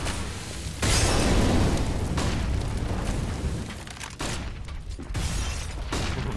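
A grenade blows up in Counter-Strike on the de_train map with a loud, sharp boom and rumbling blast noise, followed by further bursts and clatter.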